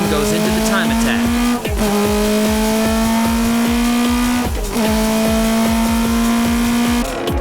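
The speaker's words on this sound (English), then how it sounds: "Tsuchiya's TRD machine goes into the time attack." Tsuchiya's TRD race car on a qualifying time attack, engine revving hard and loud up through the gears with brief drops at shifts, tires squealing under the steady roar.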